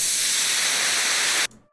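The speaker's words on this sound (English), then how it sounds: "Maybe a nice little white noise washer like this." A bright white noise washer effect in a progressive house track swells loud and steady for over a second, then cuts off abruptly with a short fading tail.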